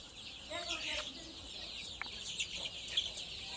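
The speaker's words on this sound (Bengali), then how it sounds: "এইখানে দেখতে পাচ্ছেন মুরগি বাচ্চা আছে" Chickens and chicks on a poultry farm make faint, scattered clucks and peeps amid steady background hiss, soft and somewhat distant.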